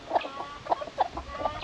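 A hen in a tropical Far North Queensland backyard gives a short series of about five soft, clipped clucks, close and clear with no one talking over them.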